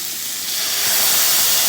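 Salt water poured into a hot cooking pan sets off a loud, rising steamy hiss that swells and holds steady, close by, with no talking.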